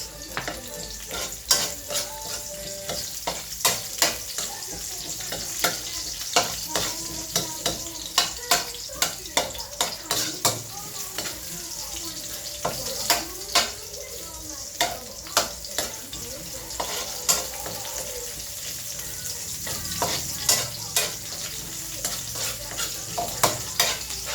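Garlic and onions sautéing in a pan for pork binagoongan, a steady sizzle broken by repeated sharp spatula scrapes and clinks at an irregular rhythm, close by.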